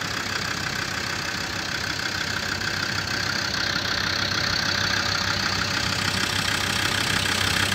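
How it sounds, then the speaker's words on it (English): A 2007 Land Rover Defender 110 double cab with a TD5 diesel engine idles close by, a steady, even rumble with a faint rattling knock, unchanging throughout and without voices. "Settles down to a nice idle, and then we'll check under the bonnet. TD5 there, doing just what it should."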